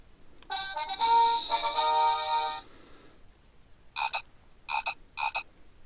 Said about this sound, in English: There's a frog in here.